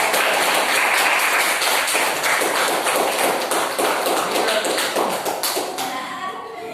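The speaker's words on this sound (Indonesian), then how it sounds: "beri tepuk tangan kepada" Applause in a classroom for a winning student group, many hands clapping in a dense, fairly rhythmic burst that fades out toward the end.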